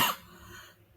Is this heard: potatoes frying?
no